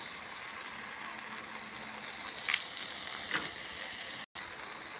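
Eggs frying in a pan for huevo a la mexicana give a steady, close sizzle throughout, with a couple of light scraping stirs partway and a brief dropout near the end; no one speaks.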